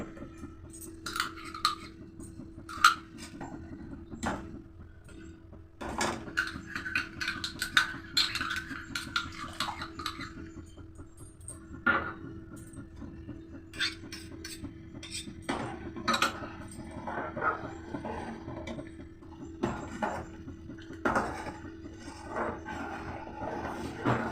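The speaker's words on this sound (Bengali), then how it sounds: "আবারও এইভাবে ভালোভাবে অনবরত নাড়তে থাকবো।" Milk stirred in a pot with a spoon for homemade matka ice cream, giving repeated light metallic clinks and scrapes at an irregular rhythm over a low steady hum, close and moderately quiet, with no talking.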